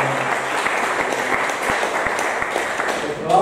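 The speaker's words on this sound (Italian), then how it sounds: "Anzi, facciamoci un applauso." An audience in a Naples theatre applauds at a book presentation, steady dense clapping throughout that swells slightly near the end.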